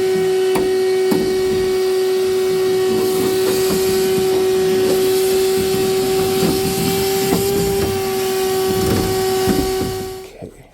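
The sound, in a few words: shop vac vacuuming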